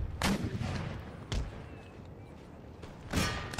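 Artillery firing shrapnel shot in the game Empire Total War: three separate heavy booms spaced out over a few seconds, each a sharp blast with rolling tail, mid-distance against quiet battle ambience.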